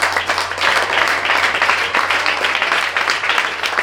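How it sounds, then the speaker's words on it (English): Students at a college of science spelling bee clap after the chief host's speech, brisk uneven clapping close and loud over a low steady hum. "Please clap for me, please."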